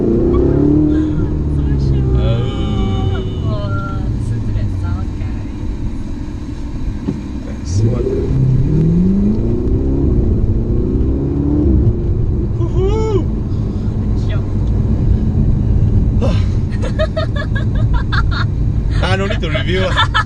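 A 2017 Ferrari 488 GTB engine drones and rises as the car accelerates from inside the cabin, a steady loud rumble with a climbing rev, while people talk over it almost throughout.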